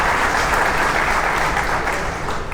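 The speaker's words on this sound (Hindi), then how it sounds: "उनके लिए जरूर तालियां बजाइए।" Loud, dense applause from a large audience at a ministerial workshop in Madhya Pradesh, a steady wash of clapping that holds for the whole stretch without pause.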